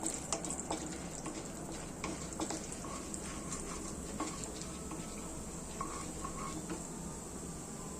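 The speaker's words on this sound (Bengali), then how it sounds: "এর মধ্যে এবারে দিয়ে দেবো বিউলির ডাল আর ছোলার ডালটা। এটাকে একটু ভেজে নেব।" Urad dal and chana dal frying in hot mustard oil, a dense continuous sizzle with scattered light clicks and scrapes of stirring close by.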